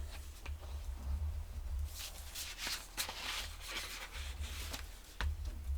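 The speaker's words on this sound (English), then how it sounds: "I'll use my surface to push down, burnish real well" Paper is burnished down onto chipboard by firm rubbing, giving repeated scratchy scraping strokes with short sharp swipes, close-up and alone over a low steady hum.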